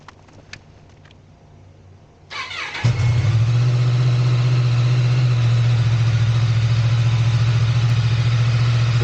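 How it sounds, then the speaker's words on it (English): A motorcycle kept in storage during lockdown cranks after a few quiet clicks and fires up, then settles into a loud, steady, close idle. "Right, shall we take it outside, see if it starts?"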